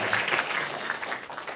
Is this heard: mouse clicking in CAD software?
no